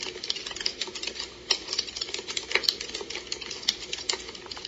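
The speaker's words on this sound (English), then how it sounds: "keyboard typing," An OnLyee portable white noise machine plays a keyboard typing track: rapid, irregular clicking keystrokes heard close and steady throughout, with no speech.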